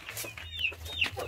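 Chickens and a rooster cluck softly at close range in a short run of brief calls over low background noise.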